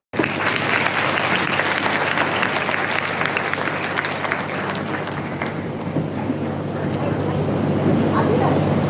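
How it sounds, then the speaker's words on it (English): An audience claps after a fusion classical dance performance by students at a school event, giving dense, steady applause that carries on throughout with the crowd's murmur beneath it. "They deserve a round of applause."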